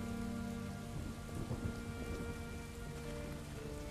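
Steady rain with low thunder rumbles in the PC game The Idol (Lore: Curse of the Elemental), a continuous dense downpour throughout, with a rolling rumble swelling near the middle and no voices.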